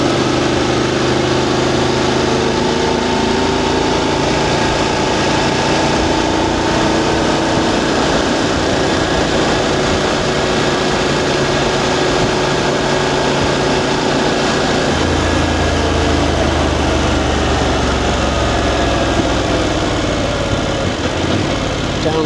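A VOGE DSX 900 motorcycle engine revs steadily above 4,000 rpm under heavy wind rush, with subtle dips in pitch as the quick shifter changes gears; loud and continuous throughout, no talk.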